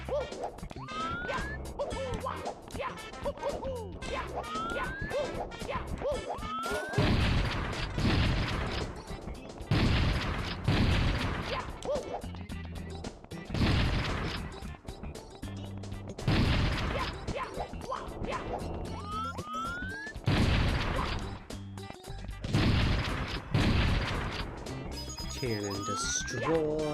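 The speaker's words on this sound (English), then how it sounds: "Cannon destroyed." Super Mario 64 gameplay with a cannon being destroyed, bursts of crashing, smashing impacts recurring several times amid game music and chiming effects, while a person talks over it.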